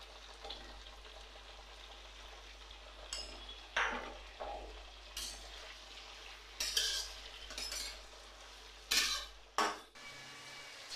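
A spatula scrapes and clinks against a pan while flat beans and diced potatoes fry, with sporadic stirring strokes over a faint, low sizzle in a quiet kitchen.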